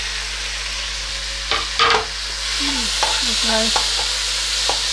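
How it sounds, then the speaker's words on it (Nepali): Tomatoes hit fried onions in a pan, sizzling with a steady hiss while a utensil stirs and scrapes in short strokes; a voice speaks briefly near the start. "यो अब यसमा मैले टमाटर हालिदिएँ हैन।"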